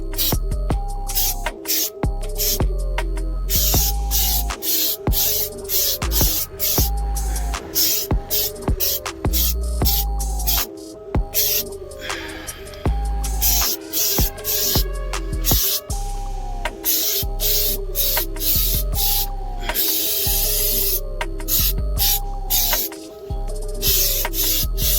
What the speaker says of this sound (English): I do want you guys to see how this thing paints though.